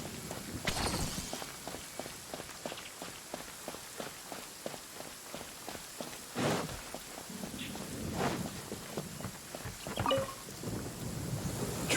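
Thunder and lightning in the Genshin Impact video game: several sharp rumbling cracks at intervals over a steady patter of in-game footsteps, with no talking.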